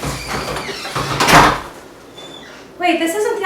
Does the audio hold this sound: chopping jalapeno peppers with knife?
no